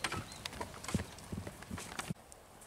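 A dark bay horse walking slowly in a corral, hooves clip-clopping in an uneven, unhurried rhythm at close range, with faint background noise.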